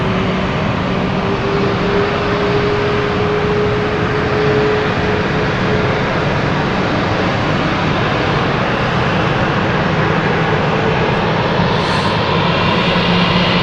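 Passenger jet about to taxi out for a Nice flight at London City Airport, a loud, constant engine roar and whine that holds steady throughout with no talking.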